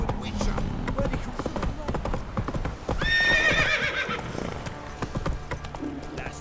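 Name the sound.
horse Roach neighing and hooves in The Witcher 3 video game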